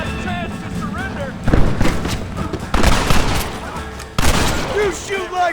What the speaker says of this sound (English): Keep up the fire!